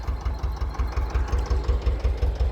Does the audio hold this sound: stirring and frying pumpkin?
no